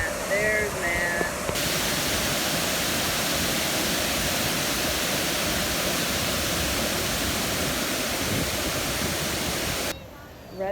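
Water pours over a dam at a swimming hole, making a loud, steady, broadband rush that fills nearly the whole stretch, with a brief voice and quieter moments at the very start and end.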